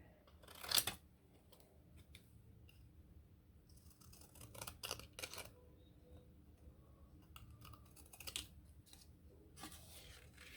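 Vintage thrift-store pinking shears chew through a paper envelope in a few crisp snipping bursts, close and fairly quiet, separated by pauses of soft handling rustle.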